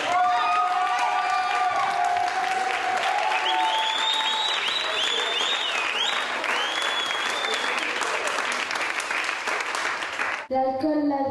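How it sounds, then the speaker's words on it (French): Dense audience applause with cheering and whoops for a slam poet at a Slam Mada 2010 event, loud and sustained for about ten seconds before cutting off abruptly. "standing ovation pour Idan"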